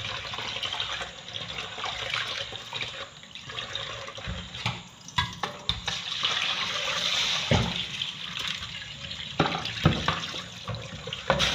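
Rice washed under running tap water in a sink to rinse off starch, a continuous loud splashing rush with sloshing and handling bumps throughout.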